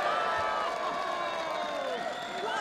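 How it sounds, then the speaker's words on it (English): Crowd cheering and applauding at a judo Grand Prix match in Ulaanbaatar, a steady roar of voices with whoops rising and falling throughout, loud and close with no clear break. "The crowd love it."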